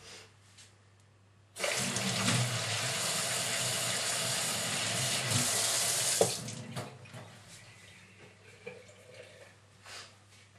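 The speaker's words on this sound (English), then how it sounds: "I'm gonna wash my hands." A tap runs steadily for hand washing after crafting with wheat paste, a loud close rush of water that stops abruptly, followed by faint splashes and drips.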